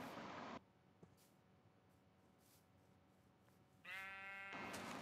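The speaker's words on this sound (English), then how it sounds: "Oh, there's a pink sheep." A pink sheep in Minecraft bleats twice, each a brief wavering, nasal cry, loud and close. The first falls at the very start and the second near the end, with a quiet stretch between them.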